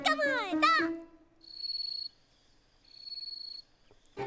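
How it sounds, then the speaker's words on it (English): A brief spoken word comes first, then two clear bursts of cricket chirping, each a high, steady trill lasting under a second, separated by a short quiet gap. "Crickets."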